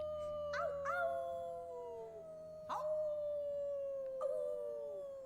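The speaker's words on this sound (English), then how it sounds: "Always with the howling." Wolf howling in the video game Life is Strange 2, a sustained tonal howl with several overlapping yips and rising cries breaking in, fairly faint and slightly distant, no talking.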